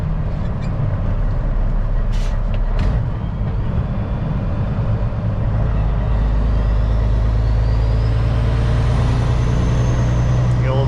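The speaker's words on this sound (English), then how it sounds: "Maybe this Freightliner coming up behind us." A Freightliner truck rolls along the highway behind the vehicle, heard as a loud steady road and engine rumble with a brief hiss or rattle, from inside a moving cab.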